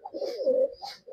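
Pigeons with long leg feathers coo close by, a soft, low, throaty warble that rises and falls in two short phrases, with no talk over it.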